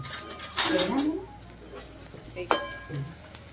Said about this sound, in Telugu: అల్లం వెల్లిగడ్డ ఒకసారి కలుపుకొని